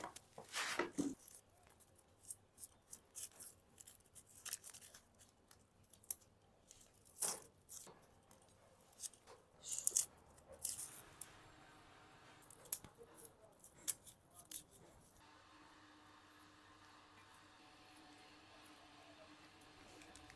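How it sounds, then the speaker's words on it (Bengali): An onion is sliced thinly with a knife, producing a series of short, crisp cuts at an irregular pace for about fifteen seconds, close and fairly quiet, then a faint background hum. "পেঁয়াজটা অনেক পাতলা পাতলা করে কেটে নেবো ঝিরি ঝিরি করে"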